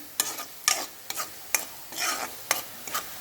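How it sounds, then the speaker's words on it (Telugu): Carrots fry in a pan with turmeric and salt as a spoon stirs them, giving a run of sharp scraping strokes over a soft sizzle, close and clear, with no voices. "ఈ విధంగా కలుపుకొని ఇంకా బాగా క్రిస్పీగా వేగేంతట్టు వేయించుకోవాలి"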